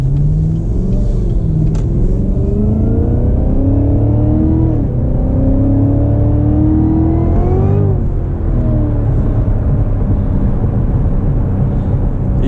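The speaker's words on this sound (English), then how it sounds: "you can hear some of the boost here as I accelerate slightly" A 2018 Cadillac CTS-V accelerates gently under a steady, loud engine rumble, with rising whining tones from supercharger boost climbing in waves as speed builds, then dropping briefly before winding up again.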